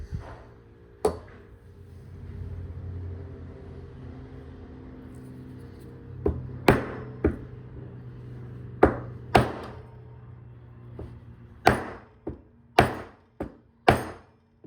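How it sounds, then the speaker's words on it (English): Sharp metallic hammer strikes driving a drive center into a lathe workpiece, a few scattered then a quicker cluster of blows near the end, ringing over a low workshop hum. "now I'm gonna hammer in the drive center"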